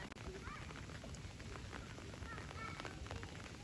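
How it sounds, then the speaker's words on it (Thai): Steady rain falls outdoors in cold weather, making a continuous dense hiss that fills the whole stretch, with faint voices in the background. "ฝนตกเลยนะ"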